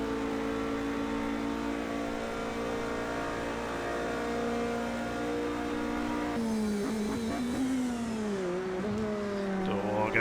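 Endurance race cars, including an LMP2 and hybrid prototypes, at Indianapolis in a racing video game, with engines holding a steady high drone, then shifting and revving through changing pitch, with faint tyre noise.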